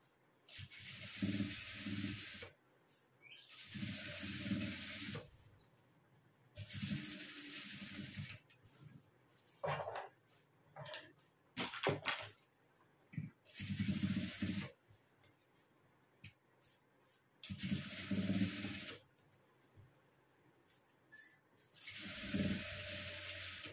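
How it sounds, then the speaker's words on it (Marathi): A sewing machine runs in repeated bursts of a couple of seconds each, stitching along the edges of a square of leftover fabric for a chaurang cover, with quieter pauses and small handling clicks between runs. "तर बघा मी सगळ्या चारी बाजूकून दाब टीप देऊन घेतलेली आहे"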